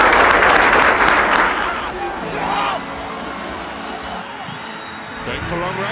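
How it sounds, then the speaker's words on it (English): A stadium crowd cheering and clapping in tribute to Mamelodi Sundowns footballer Hlompho Kekana, loud applause that fades after about two seconds into softer crowd noise and voices. "Can we all please stand up and clap hands for our famous number 8?"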